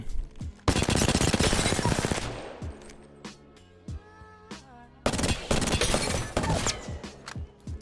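Prowler SMG gunfire in Apex Legends, loud rapid bursts of automatic shots with a quieter stretch of separate reports and clicks between them, then another heavy burst near the end.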